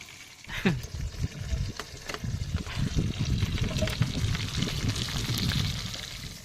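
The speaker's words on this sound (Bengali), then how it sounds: "চিকেন আমার ভাজা কমপ্লিট" Chicken sizzles in a pan over a wood-fire stove outdoors, a steady frying hiss and crackle with popping bursts, close and continuous throughout.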